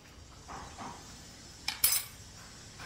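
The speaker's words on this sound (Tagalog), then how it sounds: "Haluin muna natin." A spoon stirs a pot of crab cooked in coconut milk, with soft scraping followed by a couple of sharp metallic clinks against the pot, close but fairly quiet.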